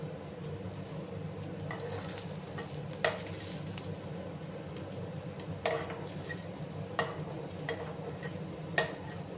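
Small kachki fish frying in a pan give a steady, close sizzle with soft stirring, broken by a few sharp clinks of a utensil against the pan.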